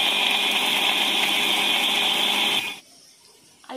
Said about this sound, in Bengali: মশলাগুলো আমি মিক্সিতে দিয়ে দিচ্ছি